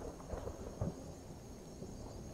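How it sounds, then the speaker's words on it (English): Quiet rolling thunder rumbles low under a steady hiss of rain in the video game Skyrim VR, played on an Oculus Quest 2, with a couple of faint soft thuds early on. "the thunder and stuff is kind of nice, but I hate rain in games"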